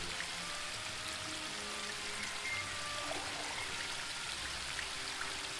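Steady rushing water from a waterfall in The Book of Unwritten Tales 2, a continuous broadband splashing wash with faint tonal game ambience underneath, even in level throughout with no talk.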